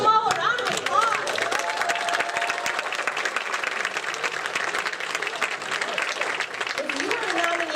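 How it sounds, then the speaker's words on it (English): Sustained applause from an audience at a youth work awards ceremony, honoring the nominees; dense, steady clapping fills the room with a few brief voices and cheers mixed in, continuing evenly throughout. "let's give them all a round of applause"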